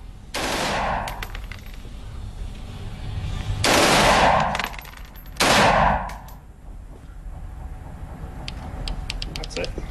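An M16 automatic rifle fires three loud bursts, each a sharp rapid rattle lasting about a second, separated by pauses, heard close and with echoing tails.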